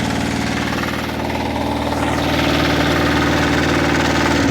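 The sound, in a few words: walk-behind tractor engine idling, WEIMA or Motor Sich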